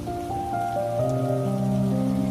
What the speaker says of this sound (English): The sound of raindrops hitting the rooftop and leaves combined with the soft breeze creates a soothing melody that is calming to the senses.